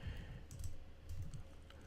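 Typing on a computer keyboard while setting up a local server for HTML and CSS work, a faint, fairly steady patter of soft key clicks at close range with no talking.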